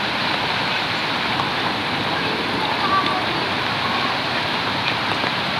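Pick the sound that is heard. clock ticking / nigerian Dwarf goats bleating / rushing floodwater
rushing floodwater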